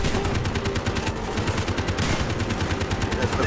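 Rapid automatic gunfire in Call of Duty Black Ops, dense repeated shots in quick bursts, loud and continuous with no talking.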